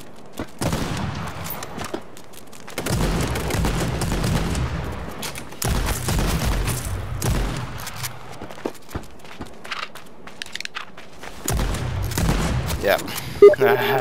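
Gunfire in a video game comes in repeated loud bursts separated by brief lulls, with scattered single shots and clattering footstep-like noises between them.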